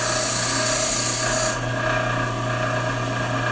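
Lathe tool bit ground on a bench grinder, a steady loud grinding hiss with a motor hum beneath; the high rasp of steel on the wheel cuts off about halfway through while the grinder keeps running.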